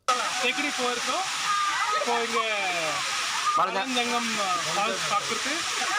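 A waterfall at Valanjanganam, Kuttikkanam, gives a steady, broad rushing roar that runs unbroken through the whole stretch, with voices talking over it.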